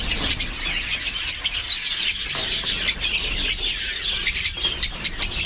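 Dense, continuous high-pitched chirping from many African lovebirds, busy and overlapping throughout, fairly close and steady in loudness.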